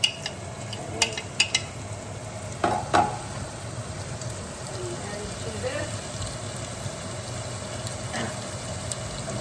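Minced ginger and garlic, processed fine, fry in a pot as the base of a Vietnamese beef stew, giving a steady close sizzle with a few sharp clinks and scrapes of stirring early on.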